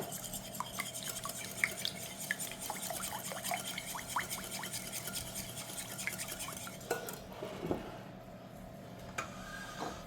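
A utensil stirs melted butter into an egg and milk mixture in a kitchen bowl, making soft, rapid scraping and liquid swishing that stops near the end.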